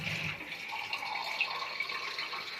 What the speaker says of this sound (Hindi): ये मैंने पानी ले लिया और ये देखें अब ये है ना, तो इसके अंदर मैंने बिल्कुल नॉर्मल सा पानी डाला है।